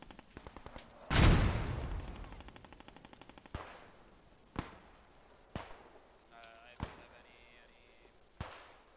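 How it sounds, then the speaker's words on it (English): Artillery and gunfire from a war video game: one loud, heavy blast followed by a rattling burst, then several sharper, more distant single shots spaced a second or so apart, with faint beeping tones in between. "this is a lot of artillery going in"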